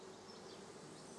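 Honeybees in a trap hive, used as a hive in a garden apiary, produce a soft, steady, continuous buzzing drone, faint and unbroken, with no talk over it.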